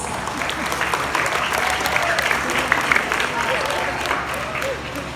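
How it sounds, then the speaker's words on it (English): Graduates of Batch 2026 at a ceremony applaud their parents and families: steady, dense clapping from a large group, fairly close and loud, sustained throughout without a break. "join me in giving our parents and families a well-deserved round of"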